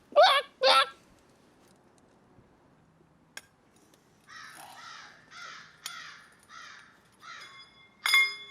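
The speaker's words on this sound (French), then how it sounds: "Putain de corbeau de merde!" A crow caws twice loudly up close, then a run of softer, hoarse caws follows in a rough rhythm, with a final sharp call at the end.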